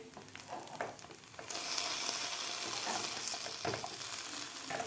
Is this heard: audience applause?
no